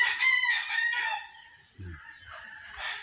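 Fighting cocks at a rooster farm crow in overlapping calls, a few drawn-out cock-a-doodle-doos from birds at different distances, with one soft low thump in between.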